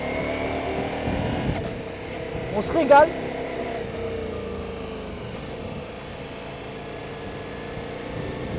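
Engine of a 2023 Ducati Multistrada V4S motorcycle on the road, a steady low drone with wind noise, while someone speaks French briefly over it.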